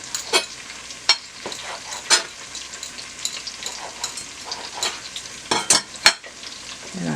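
Food frying and sizzling in a pan while being stirred, with scattered sharp scraping strokes of the utensil against the pan over a steady low sizzle, close and alone without talk.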